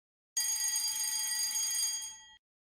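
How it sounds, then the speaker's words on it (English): A loud electronic alarm rings continuously for about two seconds, a harsh high-pitched tone that starts abruptly and cuts off cleanly, with no voices. "This will sound the fire alarm."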